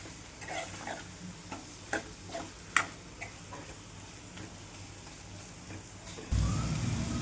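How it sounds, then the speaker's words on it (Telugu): Prawns fry with turmeric in a pan, giving a quiet, low sizzle dotted with soft clicks and taps from stirring, then a sudden louder burst of frying near the end. "ఫ్రై చేస్తున్నా."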